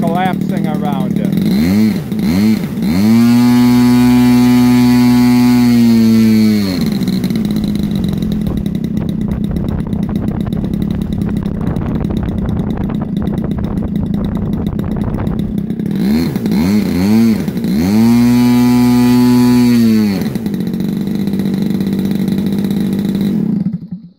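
A Moki 1.8 engine on a model airplane, its exhaust pipes dented, runs loud and close, buzzing steadily with two rising revving bursts to full throttle before dropping back to a rough idle.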